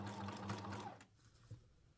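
A sewing machine backstitching a seam on a bamboo pleat cushion cover, whirring briefly for about a second and then stopping, followed by a faint click, all close and quiet.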